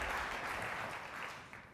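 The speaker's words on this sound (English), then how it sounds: "So round of applause for Harley." A short stretch of audience clapping for a Soft Robotics presenter at Code Commerce 2019, soft and gradually fading toward the end.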